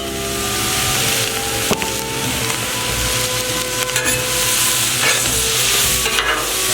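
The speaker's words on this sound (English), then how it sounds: "We'll go ahead and get the yakisoba noodles on" Precooked yakisoba noodles fry in a hot pan while being stirred, a loud steady sizzle with scraping and clacking of the utensil throughout, close up and without talk.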